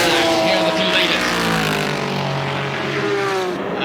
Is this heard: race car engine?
yes